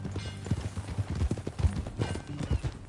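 Brisk clip-clop of horse hooves at an uneven trot in Red Dead Redemption 2, close and fairly quiet, with low background rumble.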